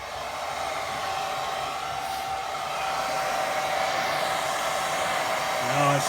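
A hair dryer blows steadily on a wet watercolour painting of a little pond, giving a continuous close whooshing hum with a faint whine that rises slightly partway through.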